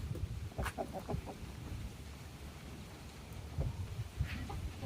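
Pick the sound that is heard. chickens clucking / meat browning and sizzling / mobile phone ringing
chickens clucking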